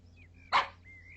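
One quick, sharp bark from a dog in an Arabic-dubbed animated cartoon, set against soft sustained tones in the background soundtrack.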